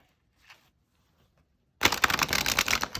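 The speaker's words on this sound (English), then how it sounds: "Let me get a good like bridge shuffle in here" Oracle deck cards riffled in a bridge shuffle, a quick burst of crisp fluttering snaps lasting about a second, close and loud after a near-silent pause with one faint tap.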